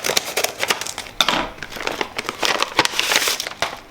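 Paper or plastic packaging crinkling and tearing as a secondhand book ordered online is unwrapped, close and irregular bursts of rustling with short pauses.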